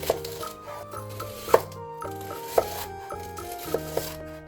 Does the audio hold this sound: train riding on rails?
no